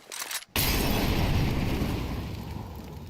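HE grenade going off during a Counter-Strike match between G2 and Nemiga: a sudden loud, close blast follows brief quieter game sounds, then spreads into a sustained, gradually fading rumbling roar.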